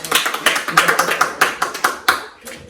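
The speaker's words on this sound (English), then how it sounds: "We need one more clap it up for that" A small group claps up close in quick, uneven bursts, with distinct sharp claps and brief gaps between them, fading toward the end.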